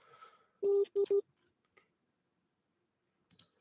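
Three short, clear phone beeps sound close together, with faint speech before them and a few soft clicks afterward. They occur on a scam phone call.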